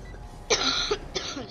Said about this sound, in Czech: Sorry za ten kašel, jsem nemocný.